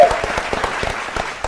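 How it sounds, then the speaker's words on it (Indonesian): Quiz show studio audience applauding, dense steady clapping from many hands, moderately loud, with a faint voice briefly over it near the start. "Tepuk tangan kembali untuk"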